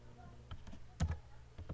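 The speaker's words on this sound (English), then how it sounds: "You can see if I am typing here" Typing on a computer keyboard while testing a homemade Python text editor, with a handful of short, soft key clicks scattered irregularly and one slightly louder press midway, over faint background hum.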